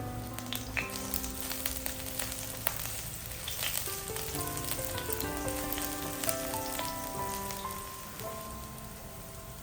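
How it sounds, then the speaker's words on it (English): Minced garlic and white onion sauté in oil in a frying pan over medium heat, a soft steady sizzle with faint crackles and light scraping throughout, and no talk. "Add the minced garlic, white onion and saute for about 30 seconds until fragrant"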